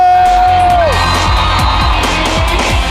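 A loud crowd at a business summit cheers, whoops and yells, with a rising whistle at the start and repeated excited shouts over a dense roar of voices.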